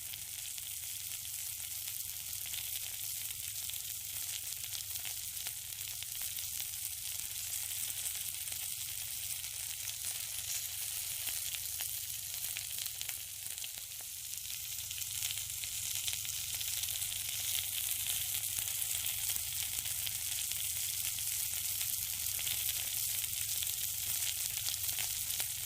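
Steady, close sizzling of food on a rooftop barbecue grill, fish marinated with lemon, garlic, herbs and cilantro alongside chicken and minced meat, a continuous bright hiss and crackle with no talk.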